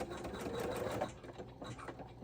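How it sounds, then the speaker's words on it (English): An embroidery machine stitches a D-ring strap connection onto an in-the-hoop wallet, giving a steady, close, continuous mechanical whir and rapid needle chatter with no talking over it. "I'm going to go ahead and stitch it so you can see."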